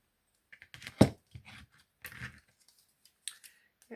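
Scissors snip at craft paper in a quiet room, a few sharp cuts with one loud crisp snap standing alone.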